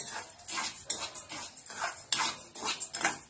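Sago is dry-roasted in a hot kadhai over medium heat, with a spoon scraping and stirring the grains in repeated rhythmic rasping strokes that sound fairly close and moderately quiet.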